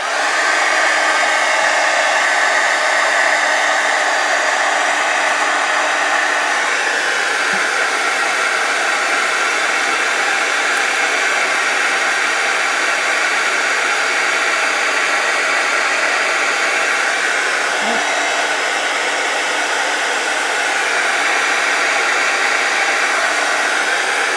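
A heat tool runs steadily throughout, its loud, continuous hot-air blowing heat-setting embossing powder on a craft piece, with no talk over it.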